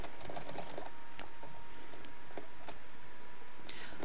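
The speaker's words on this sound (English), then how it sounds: "Arthas is a little bit scared of the sewing machine. It just makes loud noises" A sewing machine runs steadily while stitching a curtain valance, a dense mechanical whir with faint clicks and ticks throughout, close up and without speech.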